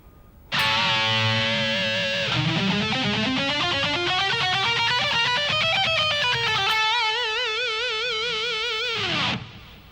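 A shred lick played slowly on a distorted electric guitar, the notes stepping up and down in clear single-note runs with vibrato on the held notes, loud and close for about nine seconds with no talking.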